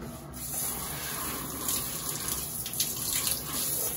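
A potted plant hit by thrips gets a spray shower of water, a steady hissing gush up close that swells slightly toward the end, with no talk.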